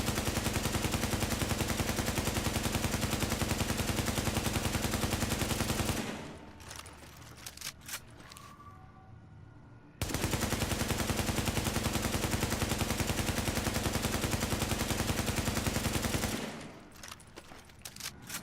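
AK rifle fire in Tom Clancy's The Division, loud sustained automatic bursts lasting several seconds each, two long strings of shots separated by a brief lull.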